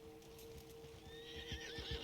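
A horse in the Red Dead video game neighs and whinnies in a rising, wavering call through the second half, with faint hoof clip-clop and steady game ambience underneath.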